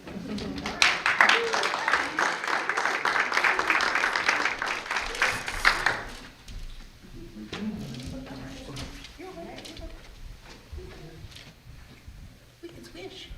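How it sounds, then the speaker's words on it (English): An audience at a Christmas show applauding themselves, steady dense clapping for about six seconds before it drops away to murmured talk and shuffling. "You can clap for yourselves again."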